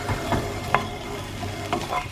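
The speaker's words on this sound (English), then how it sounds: "Just give that a mix." Chopped cherry tomatoes being stirred in an oil-free frying pan, with soft scraping and clattering strokes over a low sizzle in the background.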